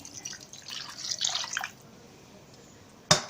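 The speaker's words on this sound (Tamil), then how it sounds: "தண்ணி ஊற்ற போகிறேன்." Water pours into a simmering Chettinad-style South Indian chicken curry in a home kitchen. A splashing stream is heard for about a second, then a quiet lull, then one sharp clink at the end.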